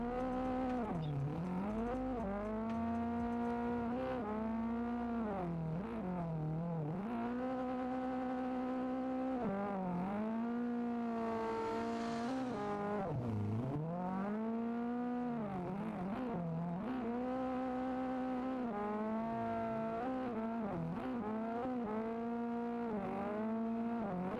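A race car drifts in Assetto Corsa with a VR setup and a CAMMUS steering wheel, its engine revving high and wavering as the throttle rises and dips, sustained for about twenty seconds with occasional tire squeal.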